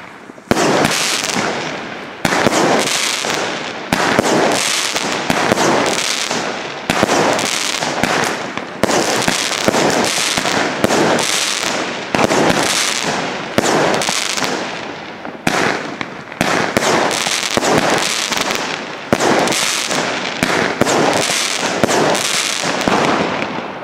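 A Weco Alligator firework battery fires its 15 shots over about 25 seconds in a rapid, loud barrage, with crackling bursts and brief gaps between volleys.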